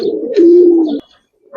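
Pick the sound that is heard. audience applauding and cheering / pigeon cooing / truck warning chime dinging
pigeon cooing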